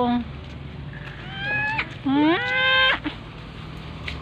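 Carabao, a water buffalo, calling in rural Mindoro, Philippines, with a couple of loud, wavering nasal bellows up close, mixed with people talking nearby.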